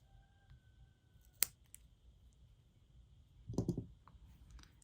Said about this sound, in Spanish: Cortamos al ras los sobrantes.